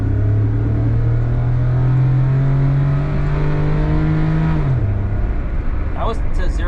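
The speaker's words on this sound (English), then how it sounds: "Let me accelerate." A Daihatsu Mira accelerating hard from low speed toward 50 km/h: the engine drones loudly and climbs steadily in pitch, drops sharply at a gear change near the end, then settles, with a brief voice at the very end.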